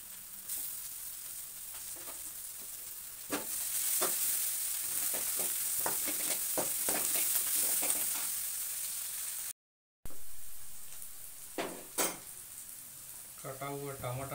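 Chopped chilli and garlic frying in a pan, a bright close sizzle with scattered stirring scrapes and clinks, fading briefly before resuming, with someone speaking near the end.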